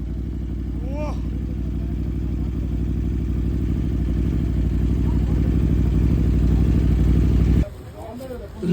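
An Aprilia RSV4 liter-class motorcycle engine rumbles close by at a steady, heavy idle for several seconds, then cuts off abruptly near the end, with faint voices in the background.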